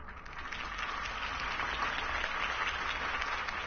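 Crowd applause fills the air after Harvey Dent's campaign speech in a Batman video game, a steady, dense wash of clapping that holds evenly throughout at moderate loudness, with no voices rising above it.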